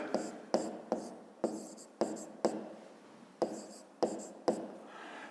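Pen strokes scratching across paper during a maths exercise, about ten short rhythmic bursts close by with brief pauses between, no talking.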